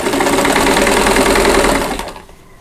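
A sewing machine stitching quilt blocks runs in a fast, steady mechanical whir close up, then slows and stops near the end, with no talking.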